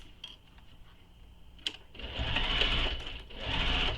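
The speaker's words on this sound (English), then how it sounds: "So I'm going to baste these in place." A sewing machine basting a fabric bow in place with long stitches. A soft whir starts and stops, then settles into a steady, close-up hum with a fine stitching rattle.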